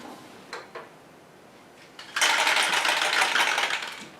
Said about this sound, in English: I just need to weld that in